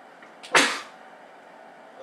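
A single short sneeze bursts out close by during a commentary break in a PS2 NCAA Football 2004 session, then fades into quiet room tone.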